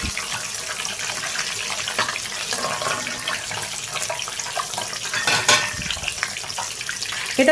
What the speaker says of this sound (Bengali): খুব তাড়াতাড়ি করে এটা ভেজে তুলে নিতে হবে